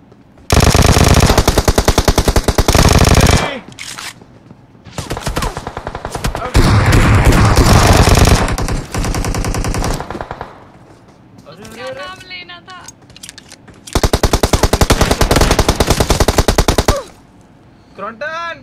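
Rapid automatic gunfire bursts from a video game shooter during a late-night stream, loud sustained volleys separated by short gaps, with excited voices talking between and over the shots.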